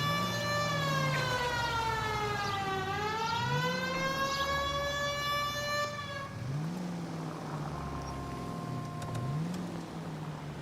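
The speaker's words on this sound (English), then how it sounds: "Turn on the siren and pull her over." A police car siren in the video game L.A. Noire wails in rising and falling sweeps, loud and close, then drops into a lower, rhythmic yelp over engine rumble.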